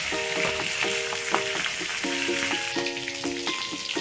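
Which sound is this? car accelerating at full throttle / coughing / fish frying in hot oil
fish frying in hot oil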